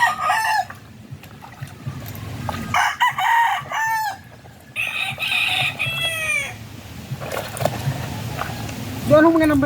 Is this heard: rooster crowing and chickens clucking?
yes